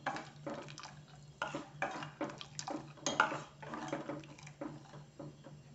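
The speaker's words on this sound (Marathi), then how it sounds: "चांगली हलवायची आहे ती कढ येईपर्यंत" Khandeshi kadhi is stirred in a pot as it heats toward a boil, with repeated soft scraping and clinking strokes of a spoon against the vessel in an uneven rhythm, close by and without speech.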